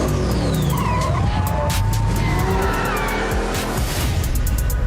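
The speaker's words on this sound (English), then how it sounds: "Racers, start your engines." Street racing cars in Rio roar continuously with loud engine revving and tire skids, several vehicles accelerating and sweeping past in a dense, unbroken wall of motor noise with no talking.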